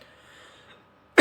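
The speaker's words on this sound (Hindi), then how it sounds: "सॉरी खांसी आ रही है" A single sharp, loud cough bursts out at the very end, after a stretch of near silence.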